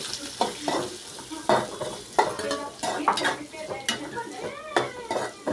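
Onions sautéing in a pan with curry leaves for Tamil-style drumstick poriyal, with steady sizzling and repeated scraping and clinks of a spoon stirring against the pan, close and fairly loud, no talking.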